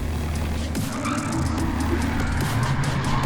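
Blue convertible, driven up from Sydney in New South Wales, revving and driving hard at a night car meet, its engine a steady close roar with brief squealing bursts and crowd noise around it.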